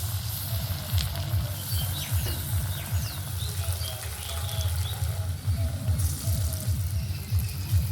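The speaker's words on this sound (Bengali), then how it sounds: "এবারে পকোড়ার শেপ নিয়ে খুব ভালো করে ভেজে নেব।" Raw jackfruit pakoras frying in hot oil make a continuous, even sizzle and bubbling hiss, fairly close and steady throughout with no voices.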